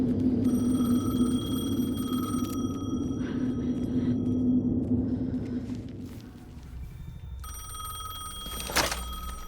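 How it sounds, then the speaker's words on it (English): Telephone ringing in the video game Alan Wake 2, a thin ringing tone heard over a deep droning rumble, moderately loud, with a sharper ring burst near the end. "The phone again."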